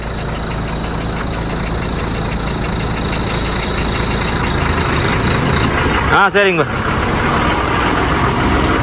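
A truck engine idles steadily throughout, a continuous low rumble with a brief voice interjection near the end.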